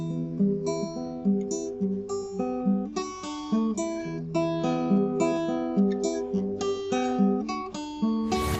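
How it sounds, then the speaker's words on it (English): A melodic guitar tune picked over chords, steady and moderately loud, notes flowing continuously with no voices. "you can play really melodic, beautiful tunes with these chords"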